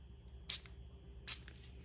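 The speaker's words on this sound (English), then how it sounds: "I'm just going to give it a couple sprays" Two short hissing bursts from a spray bottle misting water onto tissue paper, close and crisp, about a second apart over a faint background hum.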